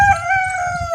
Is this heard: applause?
no